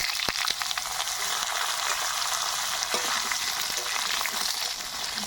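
Two kinds of potato fry in a pan with chili, bay leaf and panch phoron for a mixed vegetable ghyat, a steady close sizzle broken by occasional spatula taps and stirring scrapes.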